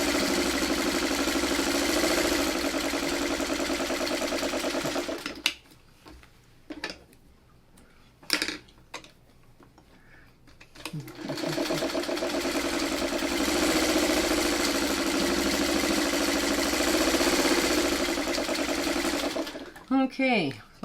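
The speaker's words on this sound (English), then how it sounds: "get this off the machine, the sewing machine" A sewing machine stitching fabric, running in two long steady bursts of rapid mechanical whirring separated by a quiet pause with a few clicks, then a short burst at the end.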